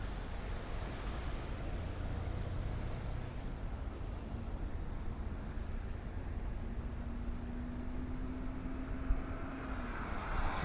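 An Air Canada A220 airliner at cold Toronto Pearson airport in winter, heard as a steady, fairly distant engine roar over constant broadband noise, with a faint rising tonal whine building through the middle and later part.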